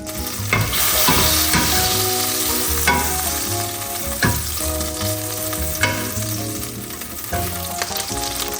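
Butter melts and sizzles in a pan over medium-high heat with a dense, continuous crackle, while sharper spatters and pops break through at irregular moments, close and loud, with no speech.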